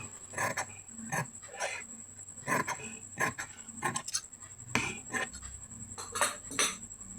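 Scissors cutting cloth for a shirt collar, a quick series of close, crisp snips and rubs, some in tight pairs, with short pauses between strokes.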